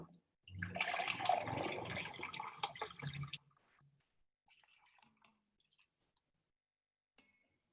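Water poured into a glass measuring cup, a steady splashing stream for about three seconds that then stops, followed by faint drips and small clinks in a quiet room.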